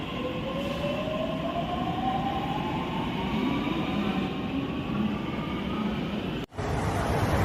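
A Mumbai metro train on the Gundavali to Andheri West line near Goregaon rumbles past steadily and loudly, with a rising wheel squeal and a brief drop near the end.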